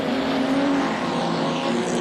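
Holden LC Torana nostalgia sedan race car laps Carina Speedway, a loud steady engine roar held close and continuous throughout, with no voices.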